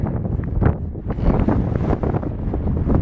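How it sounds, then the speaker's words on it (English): Strong wind on a Teton Crest Trail mountain pass buffets the microphone in continuous low roaring gusts, loud and close, with no other sounds standing out. "Extremely windy up here."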